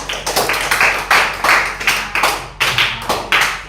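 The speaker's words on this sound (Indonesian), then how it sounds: "Tepuk tangan ya untuk Vino ya." Students in a junior high classroom applaud a classmate, giving loud, uneven handclaps in repeated bursts that fill the room for several seconds.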